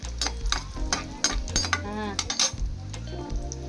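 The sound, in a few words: raisins frying in a pan for bread halwa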